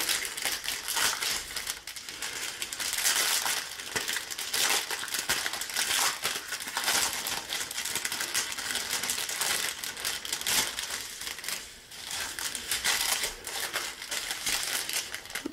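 A plastic package of craft diamonds is worked open by hand. Continuous crinkling and crushing plastic runs close and fairly loud for the whole stretch, with no pauses and no speech.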